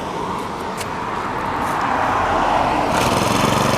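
A small Honda petrol grass trimmer engine runs steadily, a continuous buzzing drone that rises slightly in loudness toward the end, with no voices.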